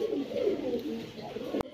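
A pair of maxi racer pigeons coo in low, soft, rolling murmurs close by, ending with a sharp click.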